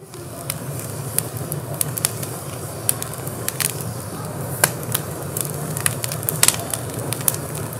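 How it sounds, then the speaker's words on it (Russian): Firewood burns in a pit dug for clay-baked chicken and duck, giving off steady sharp crackles and pops of varying loudness over a low rumbling background. "Далее он заполняет яму дровами и разжигает живой огонь."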